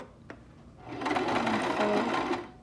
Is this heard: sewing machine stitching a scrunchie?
yes